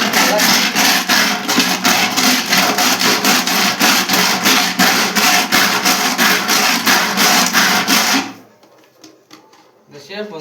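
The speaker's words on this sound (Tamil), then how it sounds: "தீட்டி வச்சுக்கணும் தீட்டியாச்சா இந்த மாதிரி தீட்டிக்கணும்" Rapid rhythmic rasping as the cut edge of a plastic bottle is sharpened for a fish trap, loud and close, continuing steadily for about eight seconds before stopping, followed by faint handling noises.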